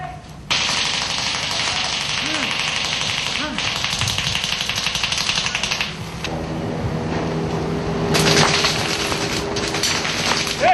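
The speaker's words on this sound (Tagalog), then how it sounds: "nagratrata na ang mga baril-barilan. Umuulan ng mga plastic BB pellets." Rapid, clattering bursts of toy guns firing plastic BB pellets rattle on and off, with a steady hiss underneath and brief voices, like a busy mock firefight.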